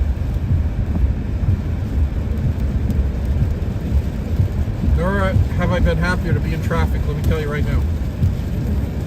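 Rain drums steadily on a car driving through traffic on a wet highway between New Hampshire and New York City, a constant rushing wash with road noise beneath, while someone talks over it in the second half.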